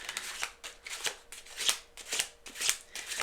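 A deck of tarot cards is shuffled by hand in repeated riffling bursts, each a soft papery flutter, close and fairly quiet with brief pauses between.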